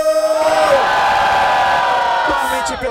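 A rap battle crowd at an outdoor freestyle event in Cabo Frio erupts in loud sustained cheering, whoops and shouting, close and dense, swelling then holding for nearly three seconds.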